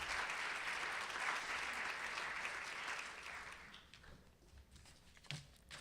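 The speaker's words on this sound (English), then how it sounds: "So I'll ask you to please join me in applauding Morehshin and Allahyari" An audience at a festival talk applauds, a dense clapping that holds steady for about three seconds, then thins out to scattered claps and small room noises.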